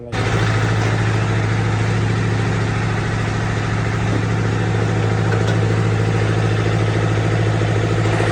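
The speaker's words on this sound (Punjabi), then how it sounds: "ਆਵਾਜ਼ ਤਾਂ ਚੈੱਕ ਕਰਾ ਦੇ ਯਾਰ ਸਟਾਰਟ ਤਾਂ ਕਰ ਲਈਏ" Engine of a 3630 tractor with a turbo, running at a steady idle, a loud, constant low drone with an even rhythm from start to finish and no voices.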